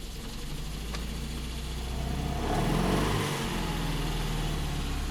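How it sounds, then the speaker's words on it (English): Three-cylinder engine of a 1971 Mitsubishi Galant GTO MR running with the choke pulled out, a steady close rumbling idle that swells slightly midway before settling, with no talk. "I actually had it running with the choke out because it doesn't like to run so much at lower RPM."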